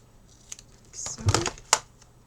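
Card paper for a handmade watercolor flower greeting card is trimmed, a few short crisp cutting and rustling sounds clustered in quick bursts, close and moderately loud.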